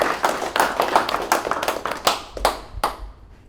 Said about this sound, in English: Clap it up for Angel.